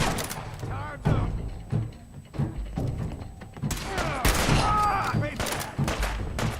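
Gunfire in the video game Fallout 4: sharp bursts of shots and thuds crackle through the mix, firing picking up into dense volleys in the second half, with game voices shouting over the action.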